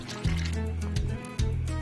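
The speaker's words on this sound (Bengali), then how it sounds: "আমি এবার একটা পাত্রে ঢেলে নেব।" Thick pumpkin ghonto cooked with fish head is poured from the pan into a bowl, giving two or three short, close scraping and sloshing sounds.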